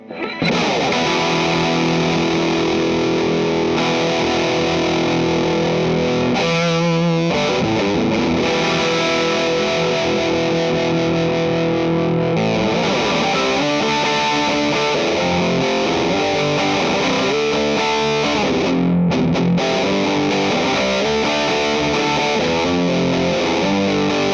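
An electric guitar through a Klon overdrive pedal into the normal channel of a Vox amp plays continuously with a warm overdriven, slightly gritty tone, mixing sustained chords and melodic riffs at steady volume, no voices.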